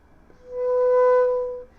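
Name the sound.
flute playing the octave harmonic of low B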